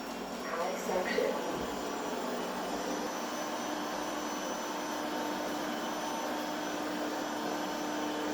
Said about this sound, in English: Now I will change on a stronger suction power. High suction.